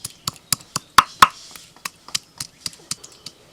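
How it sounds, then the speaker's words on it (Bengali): Spice paste ground by hand on a flat grinding stone in a Bengali home kitchen, a run of about fifteen sharp knocking strokes in a steady rhythm, close and distinct, with two louder strikes early on. "এই যে বাটনা বাটছি"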